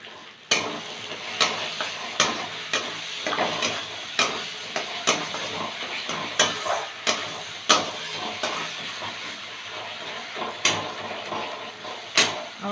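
Spice masala for katla fish curry sizzles steadily in a pan while a spoon stirs it, with regular scraping strokes and metallic taps against the pan rising over the continuous frying hiss, close up.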